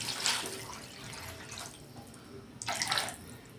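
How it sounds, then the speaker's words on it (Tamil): Water is poured into a pot of spicy traditional fish curry. It comes as two short, faint splashing bursts with a quiet gap between them. "கொஞ்சம் தண்ணி விடுறேன் பாருங்க"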